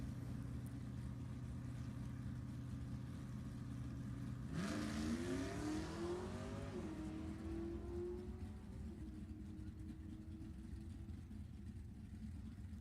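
A Corvette and a Mustang launch side by side at a drag strip, engines roaring up through rising revs over steady idling rumble, then settling as the cars pull away; no voices.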